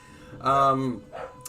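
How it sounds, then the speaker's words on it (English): Dog barking in the background of a home, one clear bark followed by a softer yip, close to the microphone. "apologies if you can hear barking and hoover noises in the background"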